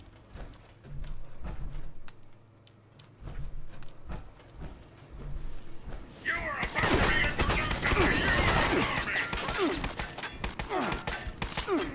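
Shotgun blasts and heavy gunfire in a wasteland game, a scattering of sharp shots at first, then dense, loud, sustained firing with fiery crackle, without speech.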